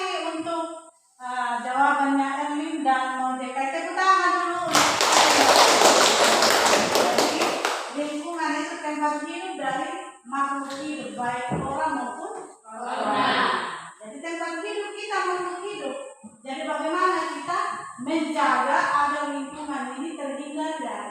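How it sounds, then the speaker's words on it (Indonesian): A class of students breaks into a burst of hand clapping that lasts about three seconds during a classroom lesson, with a teacher talking before and after it. "Tepuk tangan dulu."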